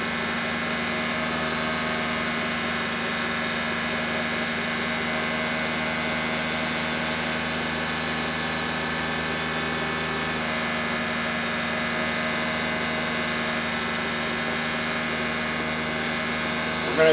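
A mini milling machine cuts aluminum at 1170 RPM, giving a steady, loud, unbroken motor whine and cutting drone that holds for the full length, close by, with no clear break or change in tone.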